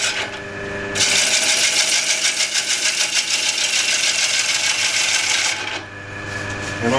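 A roll gouge cutting the edge of a wooden platter on a spinning wood lathe, a loud continuous rasping shear that starts abruptly and then fades back to the lathe's hum near the end.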